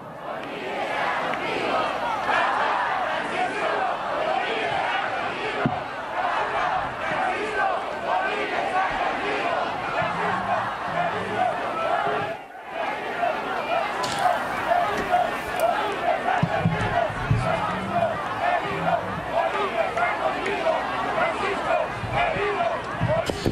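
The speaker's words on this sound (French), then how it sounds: "on entend donc la foule crier « Papa Francisco, Bolivia está contigo »" A large outdoor crowd in Bolivia welcoming Pope Francis, chanting in unison amid dense cheering and babble that continues steadily, with a brief drop midway.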